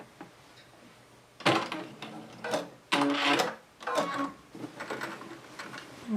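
Sewing machine stitching a seam along a quilt border, several loud bursts of rapid mechanical stitching separated by short pauses, with a brief back stitch near the end. The machine runs alone, close by.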